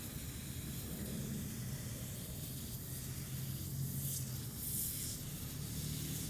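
Steady, continuous hissing spray of liquid nitrogen fertilizer onto weak spots in a Bermuda grass lawn, a broad even rush that holds unbroken for the whole stretch with no talking.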